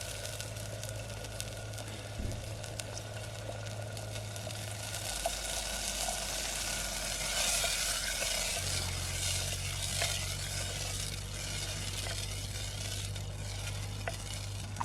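Gunda greens cooking with buttermilk in a pan in a village kitchen give a steady, close sizzle with occasional stirring scrapes over a constant low hum, and no one speaks.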